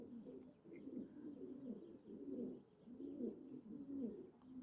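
Pigeons in a loft coo in low, rolling bursts that rise and fall steadily, fairly close and unbroken by talk.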